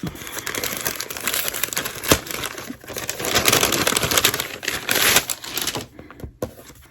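Paper being torn and crinkled while an advent calendar is opened at home: close, busy rustling and crackling with sharp tearing bursts, fading near the end.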